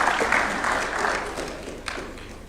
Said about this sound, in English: Let's welcome him with a warm clap,